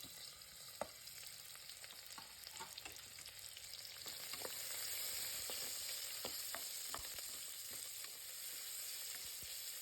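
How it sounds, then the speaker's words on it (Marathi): Garlic and onion sautéing in oil for a mutton curry, a soft steady sizzle that swells midway, with sharp clicks and taps of a spatula against the pan, quiet and close with no talking. "तेलात लसूण आणि कांदा आपण थोडंसं परतून घेऊ."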